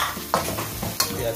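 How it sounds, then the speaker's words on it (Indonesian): Meatballs sizzle in a frying pan while a spatula stirs them, with two sharp scraping strokes over the steady frying hiss, close up and free of talk. "Diaduk-aduk."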